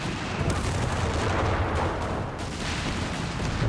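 Dense battle noise from Company of Heroes 3: a dive bomb strike amid tank clashes, with steady, loud booming artillery and gunfire blending into one continuous rumble throughout.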